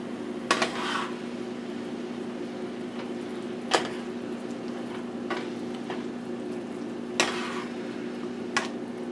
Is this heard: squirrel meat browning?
yes